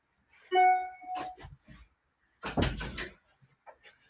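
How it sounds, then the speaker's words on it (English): A room door in a home swings and bumps shut, a clattering thud with rattling after a brief ringing tone, followed by faint knocks and shuffles in a quiet room. "Maybe I should jump up though and close my door."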